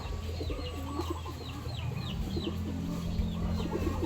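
Bantam chickens cluck in a barnyard among other fowl and pigeons, with repeated soft clucks and coos over a steady mid-level background hum.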